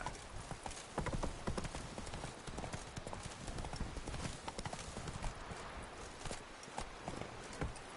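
Hooves of a horse galloping in the video game The Witcher 3, a steady rapid clip-clop rhythm running the whole way through with an occasional whinny, faint overall.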